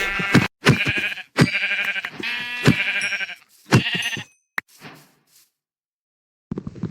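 Several loud, close Minecraft sheep bleats in quick succession with brief gaps, followed by a sharp click and a short quiet stretch before another bleat.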